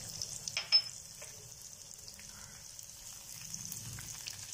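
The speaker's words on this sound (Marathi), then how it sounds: "तेल तापलं आहे, मोहरी टाकून घेऊ." Mustard seeds and finely chopped garlic hit hot oil, giving a soft continuous sizzle with a few early pops and crackles, faint and close, with no voices.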